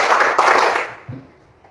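A sixth-grade primary school class of children claps hands together in a quick, dense burst that lasts under a second, then cuts off and trails into a quiet room with a faint low thump.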